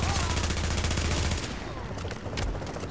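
Dense bursts of gunfire from The Division's Dark Zone, loud rapid automatic shots crackling continuously for the first half, then continuing more raggedly under a busy game mix.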